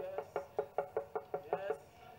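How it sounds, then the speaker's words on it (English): Eight evenly spaced knocks on a house door, one about every quarter second, sharp and close with a hollow ring, heard alone against a quiet background. "When you go in front of a house and you knock the door"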